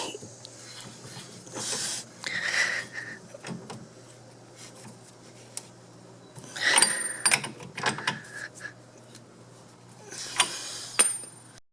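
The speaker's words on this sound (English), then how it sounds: "I'll just wind this nut into place and I'll torque it a little later" A nut is wound by hand onto the stud of a Ford Focus rear drum brake, producing scattered metallic clicks, ratcheting and scraping in irregular bursts, close up, over a faint steady background hum, without talking.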